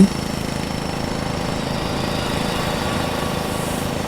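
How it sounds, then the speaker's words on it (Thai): A drilling rig widening a borehole runs with a steady, loud mechanical drone and rapid rhythmic pulsing, continuous throughout with no talk. "นั่นก็คือการขยายหลุมเจาะ"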